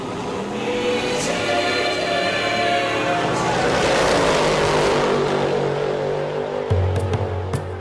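A twin-turbo V8 supercar engine roars steadily as it accelerates hard, the tone climbing, with a brief shift near the end.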